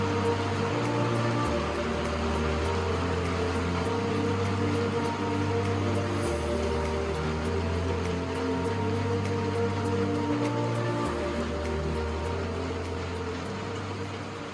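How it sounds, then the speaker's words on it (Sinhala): Heavy rain pours down on a rural road near Rathganga in Sri Lanka's Ratnapura district, a dense, unbroken roar with a low droning hum shifting underneath throughout. "රත්ගංග පුංචි දඹදිව පාරින් කිලෝමීටර් 2ක් විතර යනකොට හොඳටම වැස්සක් පටන් ගත්තා."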